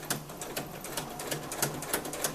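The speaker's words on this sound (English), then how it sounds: "we're just gonna sew across" A sewing machine stitches across burlap with a medium to heavy duty needle, a fast even clatter of needle strokes, close and moderately loud.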